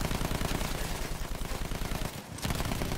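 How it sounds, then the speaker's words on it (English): In Battlefield 1, machine gun fire rattles against a two-seat plane as a dense, rapid burst of impacts, loud and continuous, with a brief gap before the hits resume. "We're getting shot."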